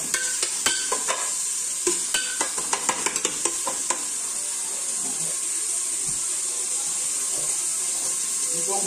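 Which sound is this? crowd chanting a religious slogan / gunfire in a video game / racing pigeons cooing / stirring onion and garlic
stirring onion and garlic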